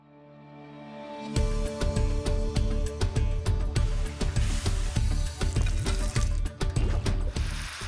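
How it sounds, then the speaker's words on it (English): Rice milling machinery at KRBL's Dhuri plant, a vast rice mill in India, fades in, then clatters and rattles in a steady, dense mechanical rhythm with deep low rumble, loud and close. "I'm at KRBL's Dhuri plant, which is the world's largest rice milling facility."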